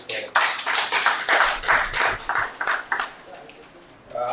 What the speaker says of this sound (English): So I would like us to applaud them